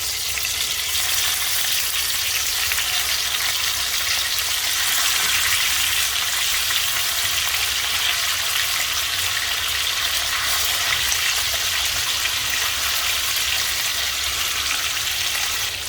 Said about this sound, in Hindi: तेल हमारा गरम हो चुका है, अब इसमें डाल देंगे फिश।